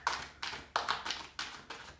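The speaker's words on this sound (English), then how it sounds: "you're just having to watch me shuffle" Tarot cards being shuffled by hand: about six quick papery bursts of riffling and tapping in an uneven rhythm, close but quiet.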